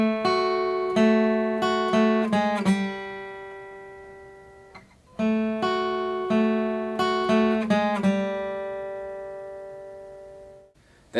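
An old school country blues lick on guitar with slides down the neck: clusters of plucked notes ring out and decay, played twice with a pause between, clear and close with no voices.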